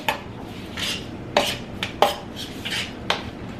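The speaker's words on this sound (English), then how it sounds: "I'm just gonna use my knife to stir everything up" A knife stirring shrimp in a pan gives a series of close, sharp metallic clinks and scrapes at irregular intervals over a low background hum.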